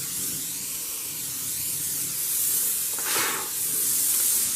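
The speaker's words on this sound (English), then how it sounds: "Maybe spray some lubricant in those, and they'll come off." Spray lubricant hisses in bursts onto parts of a 1 1/2 HP Lauson model W hit-and-miss engine, a close, steady airy spray that swells toward the end, with no talking.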